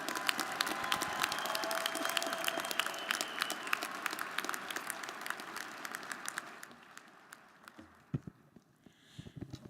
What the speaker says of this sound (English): Join me in a round of applause for yourselves, for your classmates, and for those who have supported you along the way.